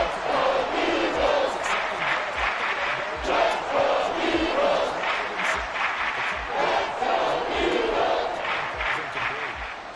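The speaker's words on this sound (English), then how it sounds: "this crowd is making an impact right now" A packed stadium crowd at an Eagles versus Bills football game roars loudly and continuously, chanting and yelling in waves, with voices shouting above the din.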